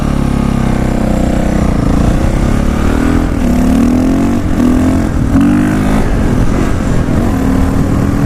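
A 525 dirt bike engine revs hard and close up, its pitch rising and falling through repeated throttle blips in a loud, continuous motorcycle roar.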